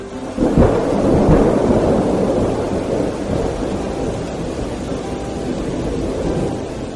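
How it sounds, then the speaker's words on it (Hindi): Loud, close thunder rumbles and rolls over a dense roar of heavy rain, forming one continuous storm sound effect with no voices. "फिर अचानक से एक बार बहुत तेज बारिश हुई।"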